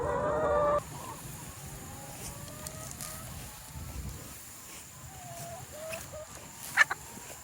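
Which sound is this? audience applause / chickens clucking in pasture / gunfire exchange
chickens clucking in pasture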